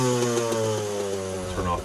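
A kickstarted Suzuki LJ20 engine idles after warm-up with the choke off, a steady close buzzing drone with slight throttle wavering and no speech over it.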